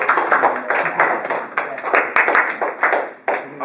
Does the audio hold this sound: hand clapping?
yes